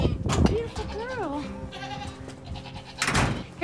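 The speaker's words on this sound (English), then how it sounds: "So the goats are, well, they're out here." Goats bleat on an Oklahoma livestock farm during a winter Arctic blast, one wavering, close bleat standing out over steady outdoor noise, with a person talking nearby.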